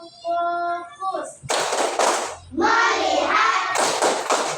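Children in a 4th-grade Islamic religious education class perform a rhythmic clapping chant, loud group claps in short bursts alternating with voices chanting together, following a sung note from the teacher.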